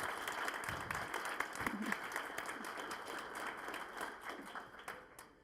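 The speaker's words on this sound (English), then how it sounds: "please give a round of applause to our lovely models" Audience applause for fashion models at a clothing-line showcase, a steady wash of clapping sustained throughout and tapering slightly at the end, with faint voices beneath.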